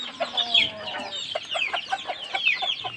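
Multicoloured country rooster and hens newly arrived by parcel in a Konkan village, clucking and squawking busily up close in quick irregular bursts with no talk.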